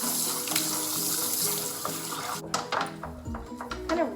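Water drips and splashes as wet fur is gently wrung out while grooming a dog, steady running-water wash at first, then scattered close drips and trickles.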